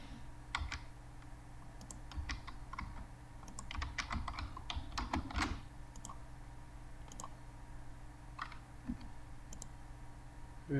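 Quiet typing on a computer keyboard while entering text into a terminal, irregular soft clicks and short bursts of keystrokes over a low steady hum.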